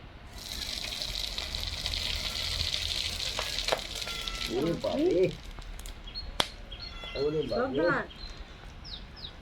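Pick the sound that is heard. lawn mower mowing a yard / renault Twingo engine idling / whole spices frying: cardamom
whole spices frying: cardamom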